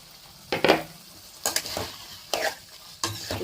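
Ghee chicken sizzles gently in a pan with a little water as a spoon stirs it, four distinct scraping, rattling strokes spaced about a second apart over a quiet, low sizzle.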